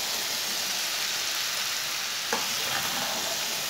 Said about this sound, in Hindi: हल्की आंच पर ऐसे ही छोड़ेंगे पकने के लिए